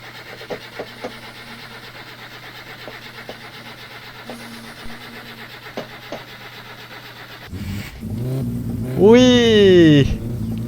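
Satsuma AMP car engine in My Summer Car, smoking heavily once running: faint clicks, then the engine cranks, catches and revs up loudly before settling into a running rumble.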